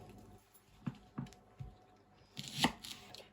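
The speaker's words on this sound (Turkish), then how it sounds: "Önce pırasaları doğramakla başlıyoruz." Knife chopping leeks on a board: a handful of distinct, irregular chops up close, with quiet pauses between them.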